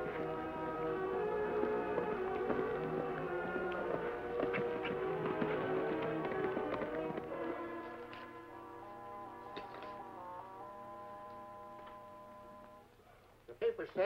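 Horses' hooves clip-clop in a steady rhythm on a long ride through dry country, heard under music, then fading as the music continues alone.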